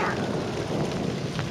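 Thunderstorm with continuous rain hiss and low rolling thunder, an even wash of noise throughout with no talking.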